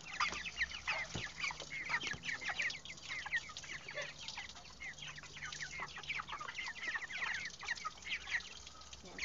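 Broiler chickens about three weeks old clucking steadily inside their cage, a dense flock chorus of overlapping clucks and calls at moderate distance, with no speech.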